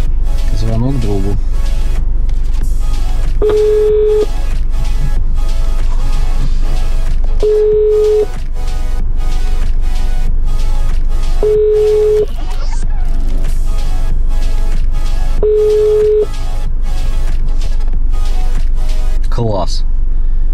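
A phone call placed through a Haval F7 car's hands-free system ends in a busy signal: four evenly spaced beeps over a low cabin rumble, with a person talking throughout.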